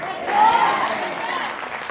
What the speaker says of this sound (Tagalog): Mahina yung palakpak.